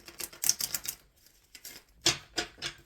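Tarot cards shuffled by hand at close range, giving quick clusters of crisp riffling flicks with a brief pause between bursts.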